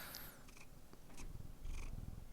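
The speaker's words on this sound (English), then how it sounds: "A purr. Give us a purr." A contented house cat purrs close up, a soft continuous low rumble that is faint and steady, with a brief high chirp at the start and no talk.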